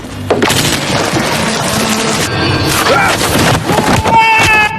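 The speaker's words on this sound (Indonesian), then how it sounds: "Tembakan demi tembakan dilepaskan," Gunfire in a movie action scene, several loud, sharp booming shots in quick succession amid dense crashes and splintering impacts, with a brief voice and score underneath.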